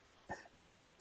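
Two short, quiet coughs from a podcast host, one a bit after the start and another cut off at the very end, with near silence between.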